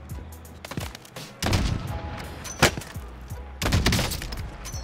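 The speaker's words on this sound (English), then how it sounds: "Okay, who is shooting me?" Gunfire in the video game Warzone comes in bursts of rapid automatic shots and sharp single cracks, fairly loud and close, with brief gaps between volleys.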